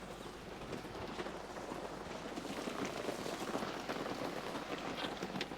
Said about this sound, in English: it's still raining out there